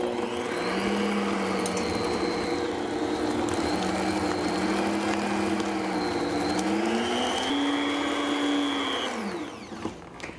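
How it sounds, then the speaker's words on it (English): Electric mixer creaming butter and cream cheese in a home kitchen: a steady loud motor whine for about nine seconds with pitch rising and falling as the beaters work, then winding down and stopping, no talk. "now let's cream together the butter and the cream cheese"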